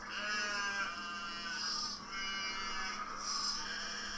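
A person imitates a goat's bleat, a sustained, wavering, nasal bleating that carries on steadily for several seconds in a couple of swells, loud and close, with no talking.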